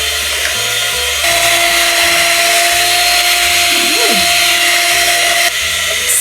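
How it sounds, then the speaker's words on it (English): A hand mixer whisks Filipino tiramisu dessert mixture, a loud, steady high whine that runs continuously with slight shifts in pitch and level, alone with no talking. "You just need to keep on"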